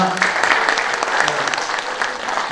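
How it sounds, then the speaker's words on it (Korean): Applause from the crowd at a patriotic citizens' rally in Busan honoring a pastor, a continuous, fairly loud wash of many hands clapping. "다시 한번 우리 나영진 목사님 큰 박수 부탁드립니다"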